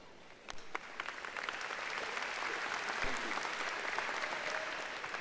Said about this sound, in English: please join me in a round of applause for all those introduced and these wonderful educators